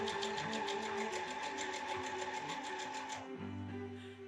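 Sewing machine stitching a reusable fabric surgical mask, a fast steady chatter of the needle running continuously up close before slowing and stopping into a low hum, with no talking.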